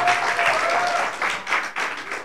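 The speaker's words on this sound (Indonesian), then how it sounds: "Ya, tepuk tangan anak-anak sekalian" Students applaud at a university roadshow for Universitas Islam Indonesia, a steady wash of many hands clapping in a large room for about two seconds.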